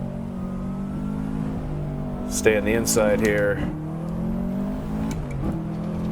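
A tuned Subaru WRX climbs Pikes Peak in the Assetto Corsa racing game, its engine a continuous revving whine that rises and falls with gear changes, while someone speaks briefly over it.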